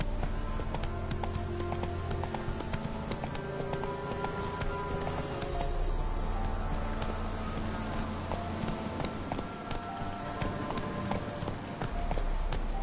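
Galloping hooves of the horse Roach in The Witcher 3, a continuous, even clip-clop rhythm at steady loudness, with ongoing game ambience and no talk over it.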